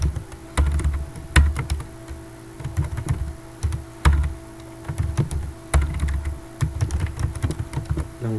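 Rapid clacking of computer keyboard keys while Python code is typed, close and clear, in irregular bursts with short pauses and no voice.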